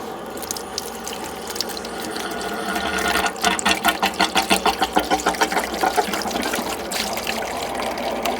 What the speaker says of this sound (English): I don't know if you can hear that water running in the background.